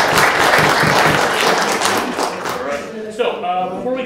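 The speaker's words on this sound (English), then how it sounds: "so we get a round of applause for Paul, please." An audience at an astronomy society speaker's night gives a round of applause, dense clapping that thins and fades out, followed by a voice speaking near the end.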